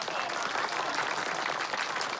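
A group of comrades claps warmly and steadily at a send-off for people heading to the front, a dense, even burst of applause close by with no talking.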